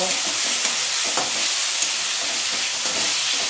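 A spice mix of cumin and coriander powder fries in a pan while being stirred, a loud continuous sizzle close by with faint scraping strokes running through it.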